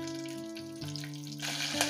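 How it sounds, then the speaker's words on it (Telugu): Curry leaves and tempering spices crackle in hot oil for a curd brinjal curry, a close, busy sizzle with sharp pops that grows louder toward the end, with no talking. "అమ్మో చిటపట పంటున్నాయి."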